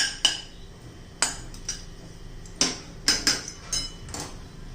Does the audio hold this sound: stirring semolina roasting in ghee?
yes